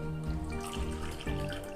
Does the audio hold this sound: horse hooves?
no